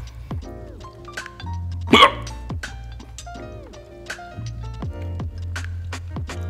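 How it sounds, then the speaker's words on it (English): Repeated sharp, involuntary hiccups from a person eating hot chili, several short bursts spaced irregularly over a quiet background, close to the microphone. "That's a hiccup."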